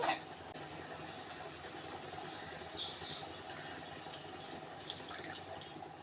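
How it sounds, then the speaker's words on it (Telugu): Water is poured into a pan of simmering brinjal and dried fish curry, a faint, steady trickling and gurgling that lasts several seconds, heard alone. "కొంచెం నీళ్లు పోసుకుందామండి"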